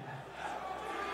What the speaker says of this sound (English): We get some DRX chants from the crowd.